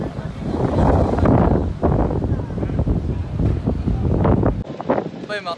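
Strong gusts of wind buffet the microphone on a street in Madrid, producing loud, continuous low rumbling that swells and dips throughout, with a voice speaking underneath.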